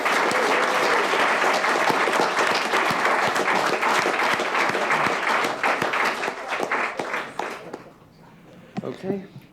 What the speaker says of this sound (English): Okay, guys, give a round of applause for Basha's counsel.